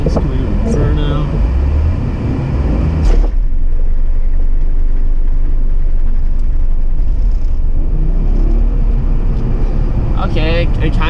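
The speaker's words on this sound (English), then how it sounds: "Okay, it kind of did a burnout. I wouldn't really call that a burnout, but it did something. It really just wheel hopped a whole bunch." A drift car doing a burnout that turns into heavy wheel hop: a loud, continuous engine roar and rumble running throughout, with a sharp burst near the start and chattering bursts toward the end. People's voices mix in over the noise.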